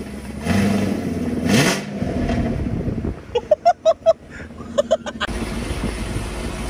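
A Camaro SS 1LE V8 fitted with Texas Speed 2-inch headers and a stock muffler revs up and falls back loudly nearby, then lets out a quick run of sharp crackling pops.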